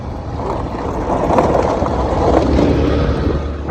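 A road vehicle pulls away outdoors, a steady broadband rumble and wind-like rush that swells slightly in the middle and holds fairly loud throughout, with no talk over it.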